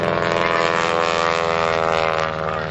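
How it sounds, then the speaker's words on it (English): A Boeing Stearman biplane at an airshow roars low along the show line, its radial engine droning loud and steady with a rich, throbbing propeller tone that eases slightly toward the end. "Stearman biplane right back down onto the deck. Powers that airplane right on up"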